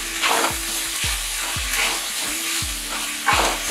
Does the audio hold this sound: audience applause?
no